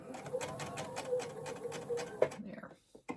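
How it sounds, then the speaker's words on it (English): A sewing machine stitches a line on a crazy-patch quilt piece, its quick rhythmic needle pulses running close and steady before cutting off, with a few small handling clicks. "I am going to sew while I'm here"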